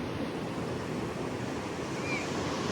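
Ocean waves wash steadily onto a beach, a dense, constant roar of surf mixed with wind, with no clear breaks or talking.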